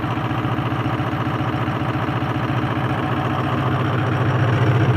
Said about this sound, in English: True Northern Ontario cold start.